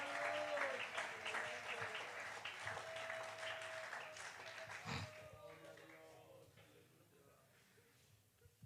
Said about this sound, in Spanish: Dele ese aplauso al Señor Jesucristo esta mañana.